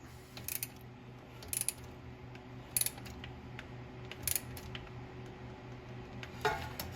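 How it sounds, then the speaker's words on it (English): A wrench loosens the alternator bolt on a 1969 Dodge Charger R/T, giving short, faint bursts of ratcheting clicks at roughly regular intervals over a low background rumble. "in order to get that alternator to move down like that, you have to loosen up this"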